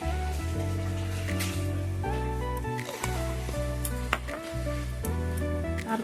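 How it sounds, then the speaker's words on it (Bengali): Ghee sizzles in a wok (kadai) while a Bengali vegetarian ghonto is cooked, making a steady close crackle that lasts throughout, with faint stirring movements. "কড়াইতে দিয়ে দেব একটু ঘি।"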